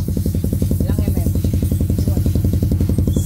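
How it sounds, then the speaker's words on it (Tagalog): Motorcycle fitted with a large 61 mm open-pipe exhaust idles loud and close, its deep, rapid, steady pulsing rumble filling the whole stretch with no other sound. "Grabe ingay nito guys. Oh. Ang laki, open pipe."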